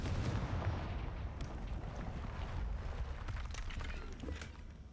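A Confringo fire spell blasts in Hogwarts Legacy, a dense rumbling burst over a loud continuous low roar, with a few sharp crackles near the end and no voices.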